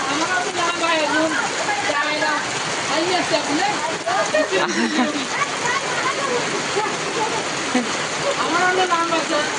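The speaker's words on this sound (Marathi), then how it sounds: "आला पाऊस आला" Steady heavy rain pours down on a village of houses, a dense constant hiss that runs the whole time beneath excited, overlapping voices and laughter.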